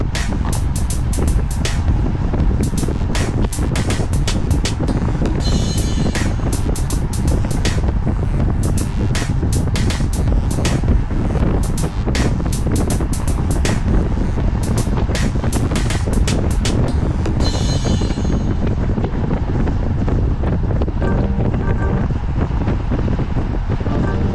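Heavy wind buffeting a microphone while riding at speed near the front of a group ride, a loud, continuous roaring rumble with gusty crackles throughout.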